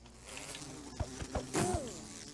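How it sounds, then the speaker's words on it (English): Bees buzz in Minecraft with a faint, thin insect drone under scattered soft hits and clicks of gameplay. "I'm trying to kill these bees because we were last time"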